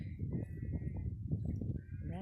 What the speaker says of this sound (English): rounding up the sheep.